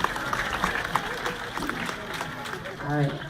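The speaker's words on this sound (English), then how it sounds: "pleased to hear that round of applause" An audience applauds in a steady wash of clapping at moderate volume, with a voice briefly audible near the end.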